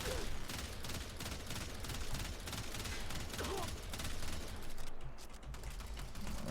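Kuva Hind gunfire in the video game Warframe, a sustained rapid burst of shots with mechanical clatter during a fight against a heavy gunner, dense and continuous with brief gaps.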